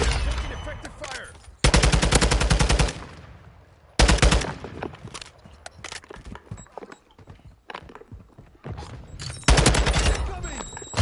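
Video game gunfire rattles in long, loud automatic bursts with short pauses between them, mixed with scattered single shots and faint background voices.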